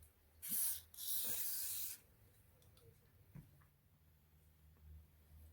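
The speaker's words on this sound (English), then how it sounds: "grab some aerosol gun oil and just give it a quick spray" Two quick hissing bursts of aerosol gun oil spray on revolver parts, a short one followed by a longer steady blast, then faint handling sounds in a quiet room.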